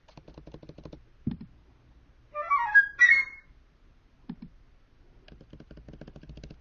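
A flute plays Messiaen's blackbird passage, a brief burst of quick, bird-like whistled runs and trills at moderate loudness, set between soft clicks and taps in a quiet room.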